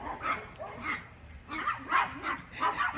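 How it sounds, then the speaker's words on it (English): Several dogs bark repeatedly in bursts, fairly close, with some yips mixed in and an outdoor background. "We gotta go inside because the dogs is barking."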